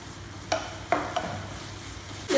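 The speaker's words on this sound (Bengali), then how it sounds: "এবার সসগুলোর সঙ্গে সব ভালো করে একটু আমি 1 মিনিট মতো ফ্রাই করে নেব।" Sauces with ground black pepper fry briefly in a pan for chilli paneer: a soft background sizzle with three or four sharp spatula scrapes and knocks.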